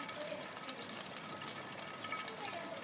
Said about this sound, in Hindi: यहाँ पर घी या ऑयल को हम डाल लेंगे।